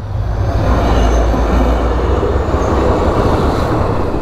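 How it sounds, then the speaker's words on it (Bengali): A local train rumbles past close by at a railway level crossing on the road from Cooch Behar toward Tezpur, a loud, steady, continuous roll of wagons with low rumble and no talk. "এখানে রেলগেটটা পড়া, ট্রেন আসছে তো দাঁড়িয়ে পড়লাম"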